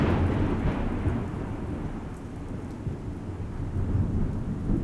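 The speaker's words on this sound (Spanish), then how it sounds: "la lluvia estaba cayendo con ganas y el viento se sentía bien pesado" Heavy rain pours steadily with deep rolling thunder and gusting wind on a stormy night at a ranch, a loud, continuous rumbling wash throughout with no voices.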